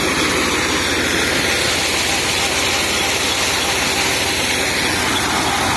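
A tractor-driven 4x3 high-head PTO water pump runs steadily, a loud, continuous engine roar with a broad droning hiss that never changes over the whole clip.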